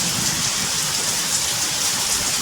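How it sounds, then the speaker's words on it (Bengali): Heavy rain pours down outside during a thunderstorm, a dense, steady, unbroken hiss of downpour, loud and close, with no voices. "বাইরে ঝমঝমিয়ে বৃষ্টি নেমে পড়েছে"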